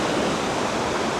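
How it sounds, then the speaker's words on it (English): Ocean waves wash onto a curved beach near a stone breakwater, a dense, continuous rushing hiss of surf that is close and steady throughout. "the curve of the beach going around and the waves coming"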